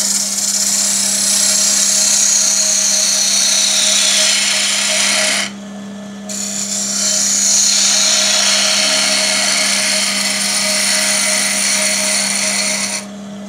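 A wood lathe spins a jarrah blank as a skew chisel cuts it, giving a loud, steady motor hum under a hissing cutting noise that breaks off briefly midway and then resumes.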